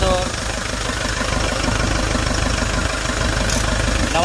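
A Hyundai Porter2 truck's D4CB CRDi diesel engine runs steadily at idle with a faint knock, close by and even throughout, and a voice murmurs in the background.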